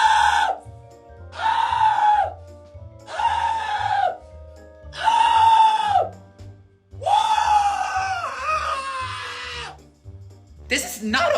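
A person shrieks and wails in a filmed tantrum, five long drawn-out screams separated by short pauses, loud and close, with a faint rhythmic thumping beneath.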